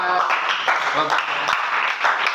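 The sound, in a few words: applause for Elezar and Arya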